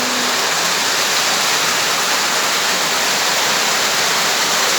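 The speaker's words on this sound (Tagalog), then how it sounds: "lakas po ng ulan" Heavy rain pouring down at a house, a loud, dense, unbroken hiss and roar of falling water close by, steady throughout with no voices.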